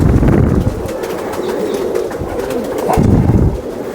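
Sialkoti pigeon cooing close by, loud low throaty coos repeating in a steady rolling rhythm with no talk.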